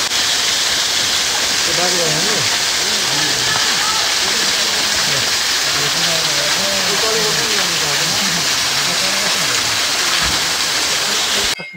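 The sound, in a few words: waterfall at Shiva Saptashati Dham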